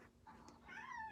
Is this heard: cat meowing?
yes